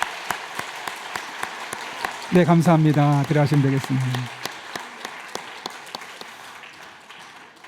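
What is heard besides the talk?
church congregation applause welcoming pastor's family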